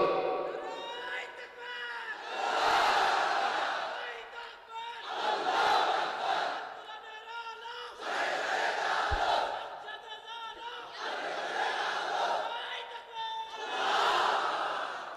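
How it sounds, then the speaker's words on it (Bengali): A large crowd at an outdoor religious gathering roars a takbir chant in repeated swelling shouts, several loud bursts of many voices separated by brief lulls. "তাকবীর পড়েন তো দেখি, আল্লাহর নামে পড়েন, লিল্লাহে তাকবীর।"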